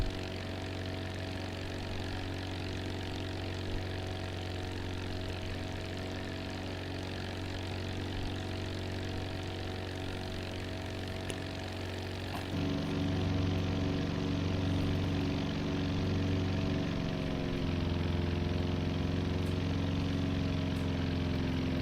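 Steady propeller aircraft engine drone in a flight simulator game, shifting pitch and growing slightly louder about midway as the throttle changes, continuous and close with no voices.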